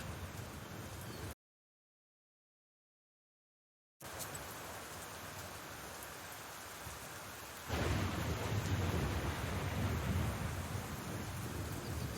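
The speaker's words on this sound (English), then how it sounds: "The real problem here is this rain." Steady rain with rumbling thunder in the video game Black Book, a dense continuous wash that cuts out to silence for a few seconds, then returns and swells louder, heavier downpour near the end.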